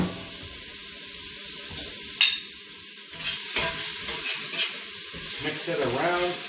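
Chopped onion, about one large onion, sizzling and frying in a hot pan for birria tacos as it is stirred around; a sharp clatter early, then steady crackling sizzle with scraping stir sounds, close and moderately loud.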